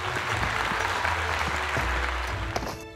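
Dense, steady applause from a crowd, a continuous wash of clapping that holds at an even level for about three seconds, used as a sound effect in a Peacekeeper Elite hide-and-seek game commentary.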